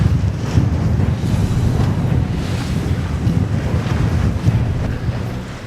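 Wind and waves rush around racing sailboats during a Nations Cup regatta, heard as a loud, continuous roar of wind buffeting the microphone mixed with sloshing surf, with no voices.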